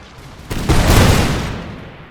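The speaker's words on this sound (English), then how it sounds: "Let instead the volleys roll on and see if we might be able to shoot down the troops on the top of the wall." A rolling musket volley from line infantry fires at troops on a fortress wall in Empire Total War with the Imperial Splendour mod, a dense crackle that swells loudly and then fades into a long echo.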